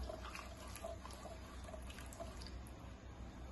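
Hot water poured into a pot for chicken noodles, a soft steady trickling stream with faint splashing, quiet and continuous with no talking.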